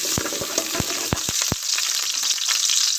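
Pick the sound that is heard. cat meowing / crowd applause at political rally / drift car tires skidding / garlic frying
garlic frying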